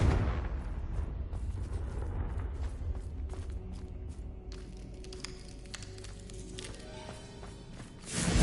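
A Confringo blasting spell explodes in Hogwarts Legacy as a loud, sustained roar of rumbling blasts that eases slightly midway, then surges into a fresh burst at the end.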